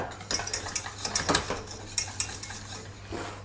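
A spoon scrapes and clinks against a pan while caramel is stirred, quick repeated metallic taps and scrapes close by with a faint underlying sizzle.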